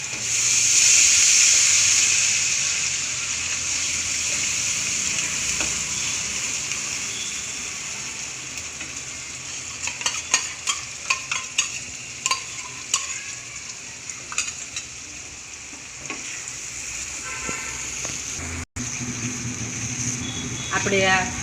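Spoonful of chutney hitting hot oil for a tempering in a lauki kofta curry, a steady close sizzle and hiss with scattered stirring clinks and scrapes of a spoon in the pan.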